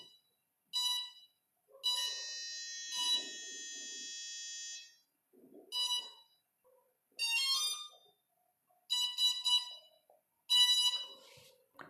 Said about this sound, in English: followed by the regular startup tone from the buzzer